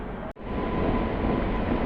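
A Pune-based WAP-7 electric locomotive hauling a train pulls into a station platform. A broad, steady rumble and roar runs throughout, close and loud, broken by one brief dropout near the start, and no one speaks.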